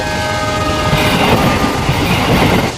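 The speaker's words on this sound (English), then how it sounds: "So when the train is coming toward you, you hear a high-pitched whistle." A train approaches close by, a loud high-pitched horn blaring over the roar and clatter of the cars.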